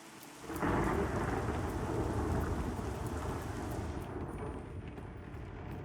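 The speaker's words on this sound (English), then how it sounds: "I do like that they fixed the sound of the rain hitting the roof now" Heavy rain drums steadily on a roof in the video game Pantheon: Rise of the Fallen, a dense loud wash with low thunder rumble underneath, swelling in after a quieter start and continuing without speech.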